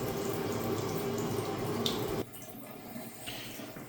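Water gushes out of a house's plumbing lines during winterizing of an empty rental property, a steady rushing flow that suddenly drops to a faint trickle and occasional drips partway through.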